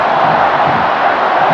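A roaring football crowd fills the Rose Bowl stadium in Pasadena during Iowa versus UCLA, a loud, unbroken wash of massed voices throughout.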